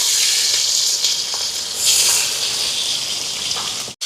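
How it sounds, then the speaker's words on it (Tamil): Onions, curry leaves, green chilies and garlic sizzle loudly in hot oil with fenugreek, a steady close frying hiss with small crackling swells throughout, no talking over it. "இந்த வெங்காயம் எல்லாம் வதங்கட்டும்."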